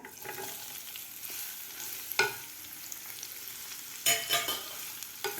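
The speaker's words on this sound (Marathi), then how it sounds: "आता याच तेलामध्ये मी दोन मोठे कांदे असे पातळ कापून घेतलेले आहेत असे उभे ते घालायचे आहेत आपल्याला" Two large thinly sliced onions sizzle steadily in hot oil over medium heat for a dhaba-style kaju masala, with a soft continuous hiss broken by a few sharp stirring scrapes and clatters near the middle and end.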